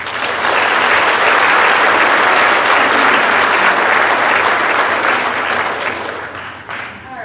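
School auditorium audience at an eighth grade orientation breaking into loud, sustained applause, a dense wash of clapping that holds steady for several seconds before thinning out near the end.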